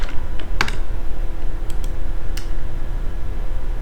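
Computer keyboard typing while writing a Unity script: a short run of close, crisp key clicks with a few separate taps, over a steady low room hum and no talk.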